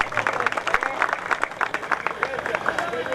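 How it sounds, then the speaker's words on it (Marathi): An audience at a cricket tournament ceremony claps for arriving guests, a steady rattle of many hands at moderate distance mixed with crowd murmur. "सर्वांनी आलेल्या पाहुण्यांसाठी जोरदार टाळ्या वाजवायच्या"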